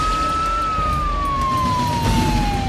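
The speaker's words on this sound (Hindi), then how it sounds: "मतलब मैंने अपने मोबाइल से पुलिस की सायरन बजाई थी" A police siren played from a mobile phone, one long wailing tone that slowly falls in pitch, loud and close over a low background rumble, with no talking.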